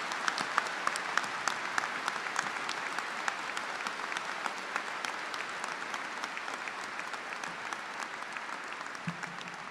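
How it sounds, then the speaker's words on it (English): Sustained applause from a large audience at a Liverpool University graduation ceremony, dense steady clapping filling a big hall for about ten seconds, heard from a distance at an even level throughout. "his own very special round of applause"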